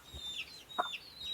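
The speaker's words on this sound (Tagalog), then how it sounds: "Tingnan mo yung manok." A chicken on a small farm gives a few soft, brief clucks, fairly quiet and close, spaced out over a moment.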